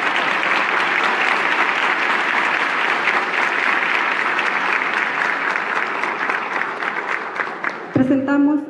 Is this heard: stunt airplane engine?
no